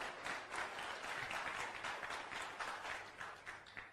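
A seminar audience breaks into steady, sustained applause, many hands clapping together at moderate distance for several seconds in an indoor hall.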